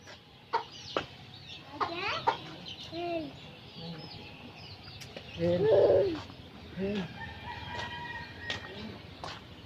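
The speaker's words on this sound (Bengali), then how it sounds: "এখানে আছে মুরগির খামার" Chickens at a small poultry coop on a rooftop vegetable garden, with scattered clucks and soft cooing calls at close to middle distance, plus a brief louder burst of squawking midway over quiet outdoor ambience.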